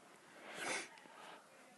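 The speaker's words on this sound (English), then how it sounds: "Sorry for the sniffing stuff." A person with a cold gives one faint, breathy sniff that swells and fades within a second, followed by quiet nasal breathing.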